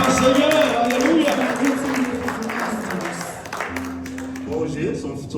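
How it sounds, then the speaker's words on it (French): A church audience claps for a graduating son: a dense, sustained round of applause with a voice speaking over it, fading after a few seconds. "Veuillez quand même applaudir."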